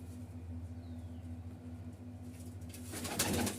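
Malwai Punjabi pigeons coo in soft, repeated low calls with a steady rhythm, close but faint, followed by a short burst of rustling or wing flapping at the end.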